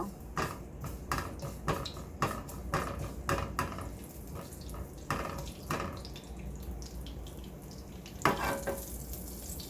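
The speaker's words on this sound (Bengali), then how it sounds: "আবারও ফ্রাই প্যানে অলিভ অয়েল দিয়ে দেব। অয়েল গরম হয়ে গেলে গোটা জিরা দিয়ে দেব।" Whole cumin seeds frying in hot olive oil in a frying pan, giving a steady crackling sizzle broken by frequent sharp clicks and stirring scrapes, no voices.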